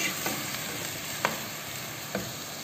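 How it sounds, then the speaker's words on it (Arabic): Onion and chicken frying together in a pan for a green bean, olive and chicken tagine: a steady soft sizzle, with a few sharp utensil scrapes as the food is stirred. "نخلي هكا البصل يبان مع يتقلى هكا مع الدجاج"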